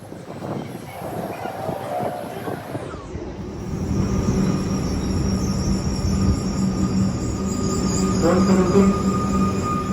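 A Melbourne suburban train ride toward Flinders Street, heard from inside the carriage: steady rumbling wheels and hum, a door or brake sound shifting the noise partway, and a rising squeal near the end.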